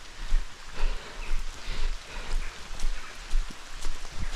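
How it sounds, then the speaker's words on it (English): Rain falling outdoors on an urban camping morning, a steady, fairly quiet patter of drops on surfaces with no voices. "It's just raining."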